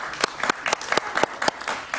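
An audience claps for a guest named David during a Jaime Bayly interview, with short, sharp bursts of hand claps spaced unevenly across two seconds, fairly close and moderately loud.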